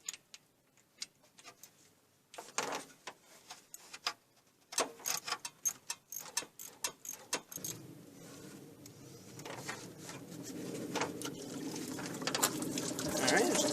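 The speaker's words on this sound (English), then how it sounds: "there's a little bit more fluid in there to drain" Coolant drains from the thermostat housing of a Jeep Cherokee XJ, with scattered clicks and taps first, then a trickle that swells into a steady pour toward the end.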